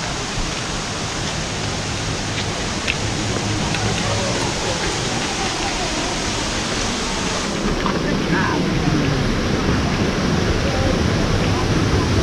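A waterfall along the Columbia River in Oregon roars as a steady, dense broadband rush of falling water, continuous and close, with the sound shifting slightly as the listener moves nearer.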